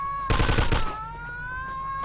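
A short burst of rapid gunfire in the 1940s-era crime game Mafia II, about half a second of loud rattling shots over a steady tonal hum, followed by quieter ambience.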